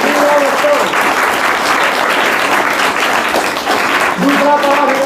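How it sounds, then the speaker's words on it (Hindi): Loud, sustained clapping from an audience at a student quiz contest, steady for several seconds while a voice and some music tones sit under the applause. "इसमें जोरदार ताली स्वागत किया जाए"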